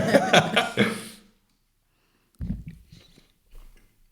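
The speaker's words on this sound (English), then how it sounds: "just chewing away here" A person chews a bite-sized cinnamon sugar treat, with soft mouth and biting sounds after a burst of nearby voices and laughter at the start, then quiet.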